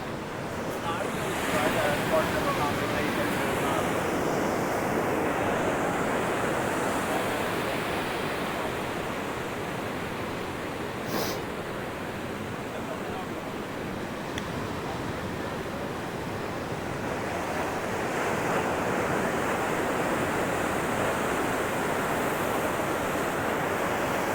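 Ocean surf breaks continuously at a surfing spot, a loud steady roar of waves with gusts of wind buffeting the microphone throughout.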